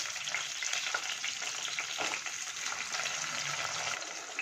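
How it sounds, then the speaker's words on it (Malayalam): Small onions sautéing in a pan for a Kerala-style squid thoran give a steady, close hiss of frying that runs without break, with faint stirring scrapes and no talking. "പിന്നെ നമുക്കൊന്ന് നന്നായിട്ടൊന്ന് വഴറ്റി കൊടുക്കാവേ"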